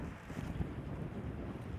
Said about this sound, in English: wow, this wind is gusting.